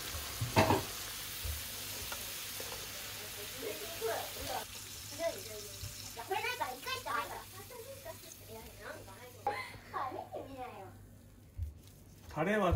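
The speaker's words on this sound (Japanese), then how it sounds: "酒が入ってるんでね、しっかり一回ガッと沸騰させましょう。" Teriyaki sauce made with sake and potato starch boils in a pan, a continuous bubbling sizzle running under a person talking throughout.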